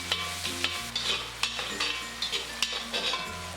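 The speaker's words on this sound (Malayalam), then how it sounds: "ഫ്രൈ ചെയ്ത് വെച്ചിരിക്കുന്ന ചിക്കൻ കഷ്ണങ്ങളിട്ട് നല്ലതുപോലെ തന്നെ ഇളക്കി കൊടുക്കാം." Fried chicken pieces being stirred with garam masala in a pan, a steady faint sizzle under repeated scraping stirs of a utensil, close up, with a low hum running throughout.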